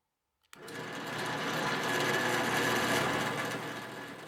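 A power drill boring a 3/8 inch hole in a wooden clamp pad retainer in a woodworking workshop, starting abruptly and holding a loud, steady whirring grind for about four seconds.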